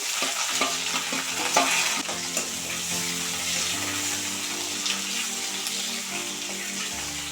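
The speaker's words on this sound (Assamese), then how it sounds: "এয়া চাওক মোৰ পিঁয়াজখিনি ধুনীয়াকৈ ভাজি পেলাই হৈ গৈছে" Onions and green chillies fry in a pan while being stirred, a steady close sizzle with scraping and stirring clatter running throughout, no voices.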